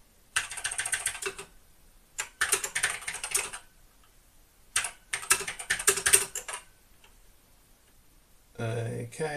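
Typing on the keyboard of an Acorn BBC Master 128 home computer, close clattering key clicks in three bursts separated by pauses, then a brief voice at the end.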